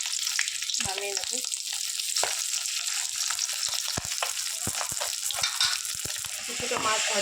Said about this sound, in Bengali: কিছুটা মাছ ভাজা হয়েছে, আরও হচ্ছে দিকটা।